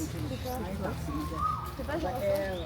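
A person imitates a bird call with the voice, giving high whistled chirps and warbling notes over a few seconds, close and clear, with other voices chattering around them.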